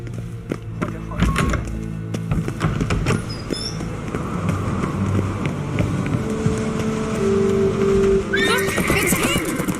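A horse whinnies loudly near the end, with hooves clip-clopping and thudding throughout amid game sounds and voices talking underneath, in The Witcher 3 video game.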